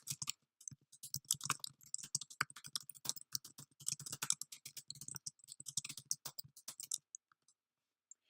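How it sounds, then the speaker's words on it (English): Fast, close clicking of computer keyboard keys typing a broadcast title, a dense run of taps for about seven seconds, then a few last strokes before stopping. "I'm going to type in my title for the broadcast"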